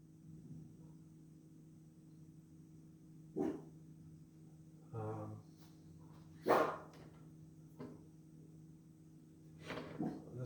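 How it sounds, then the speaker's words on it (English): A dog barks a few times in a garage, short isolated barks spaced several seconds apart over a quiet steady hum, at moderate distance. "Just because you hear other doggies barking, enough."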